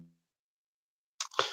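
After a moment of near silence, one short, sharp sneeze bursts out close by at the very end.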